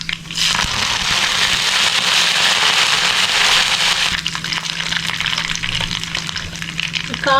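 Curry leaves hit hot coconut oil already spitting with mustard seeds, fenugreek and broken dried chillies for a Kerala mango kalan, giving a loud, dense crackling sizzle that bursts in at once and then settles into a steady frying hiss.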